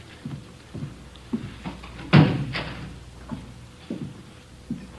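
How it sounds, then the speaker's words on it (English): A door is shut with one sharp, fairly loud thud in the middle, set among softer footsteps and small knocks inside an office, with no talking over it. "Did you close the door, Friday?"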